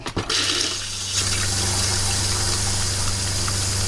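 An RV toilet in a Winnebago Micro Minnie 2100BH flushes during winterizing with pink antifreeze, opening with a sharp gush and then a steady, loud rush and fill of liquid, heard up close with no talk.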